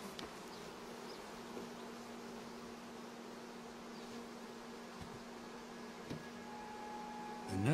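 Honey bees in a queenless, broodless nurse colony buzz nervously in a soft, continuous drone with a steady hum throughout and a brief louder rise at the very end.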